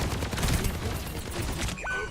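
Sustained bursts of gunfire in the Overwatch video game rattle on for about two seconds, loud and continuous, ending with a short rising electronic tone from the game.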